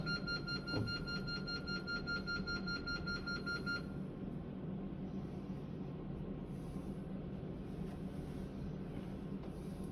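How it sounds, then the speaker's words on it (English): An elevator alarm bell on a Schindler installation sounds as a steady buzzing, beeping tone for about four seconds and then stops, leaving quiet mechanical background hum. "You got an alarm bell"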